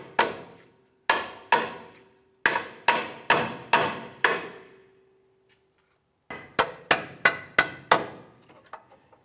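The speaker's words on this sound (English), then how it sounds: "now let's use our hammer." Sharp metallic hammer blows drive a bolt out of a 2002-2005 Ford Explorer front suspension control arm in quick bursts, about sixteen ringing hits in three groups with a pause, close and loud, ending with a few light taps.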